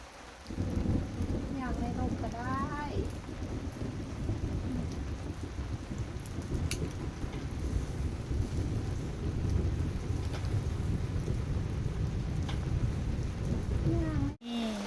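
Steady heavy rain pours throughout, with low rumbles of thunder rolling underneath and faint voices in the background, outdoors while chicken is grilled under an umbrella.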